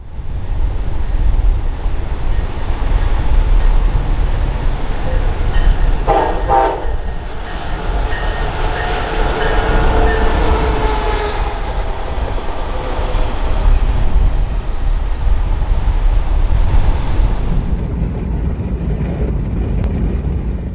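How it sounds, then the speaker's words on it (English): A Coaster commuter train with a Charger locomotive on the head end rumbles past steadily on the Pacific Surfliner route in Southern California, with a brief horn blast partway through and continuous rolling wheel noise. "a coaster commuter train, this one with a charger on the head end."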